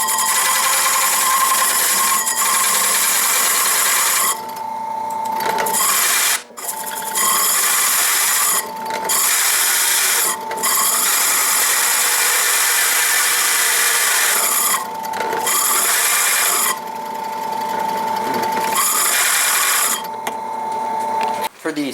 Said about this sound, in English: Now I'm drilling the holes, and this you want to do fairly high speed and go gently.